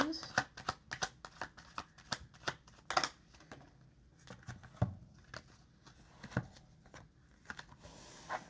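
Tarot cards are shuffled and drawn in a series of quick crisp riffles and sharp slaps, irregular and close, with someone talking softly between them.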